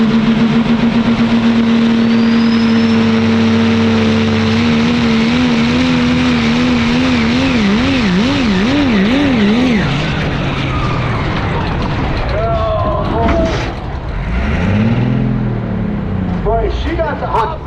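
A pro stock diesel truck roars loud and sustained during a truck pull, engine pitch wavering then dropping as the throttle is pulled back, with an announcer talking over it and crowd noise near the end.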